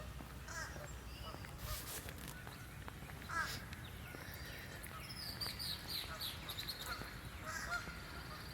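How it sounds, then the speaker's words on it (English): A large blackbird calls noisily outdoors during a morning walk, its harsh crow-like caws repeating at mid distance over steady wind and ambient background noise. "Yeah, that big old blackbird over there to your left."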